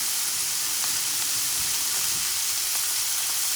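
Top round beef roast sears in a cast iron pan with a loud, steady sizzle and hiss, constant throughout with faint crackles and no talk.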